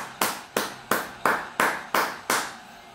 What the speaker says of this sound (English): This crowd's going wild.